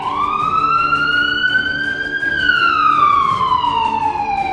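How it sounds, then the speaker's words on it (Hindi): Air raid sirens wailing in Sevastopol, Crimea, a loud continuous tone that rises slowly, peaks, then falls, with a steady drone beneath and no voices. "सेवस्तोपोल में इस वक्त सायरन बज रहे हैं।"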